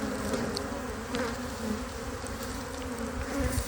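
Honeybees fanning during a removal from a house make a steady, dense buzzing hum that stays even and close throughout, with no voices.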